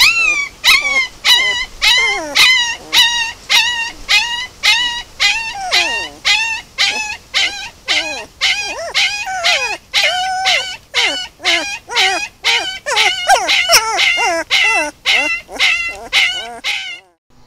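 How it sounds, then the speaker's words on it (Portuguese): Wild puppies in a rock den on a hillside whimper, yip and howl almost continuously, a close, loud chorus of rising and falling cries with rapid repeated calls and no pauses. "Esses cachorrinhos estão aí, no refúgio dos mocós, em uma loca de pedra desses morros."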